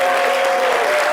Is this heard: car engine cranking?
no